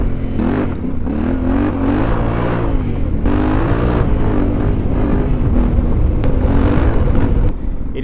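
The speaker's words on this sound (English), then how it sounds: "But listen to that exhaust snout." A Yamaha Tenere 700 motorcycle engine revs hard and steadily up close, its throaty exhaust rising and falling in pitch with no break for about eight seconds.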